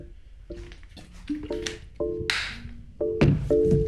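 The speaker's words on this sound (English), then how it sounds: "let me drink some water." A person takes several gulps of water, short swallowing sounds falling in a steady rhythm about every half second, close and moderately loud with no talking.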